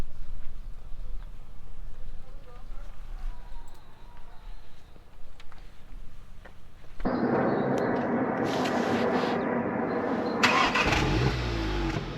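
A crash-damaged Volkswagen Golf R starts up for its first drive: quiet idling background, then the engine cranks, catches and roars loudly, with revs rising near the end.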